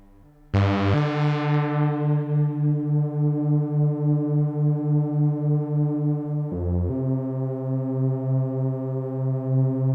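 UNO Synth Pro X synthesizer playing a sustained, buzzy low note with reverb, then a second held note starting about six seconds in, each ringing with a lush, wavering tail.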